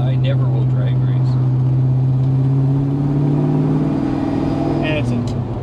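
A 1966 Chevrolet Biscayne with a 427 L72 engine and Tremec gearbox pulls hard, its engine drone rising steadily before a gear change shifts the pitch, heard close and loud with voices talking over it.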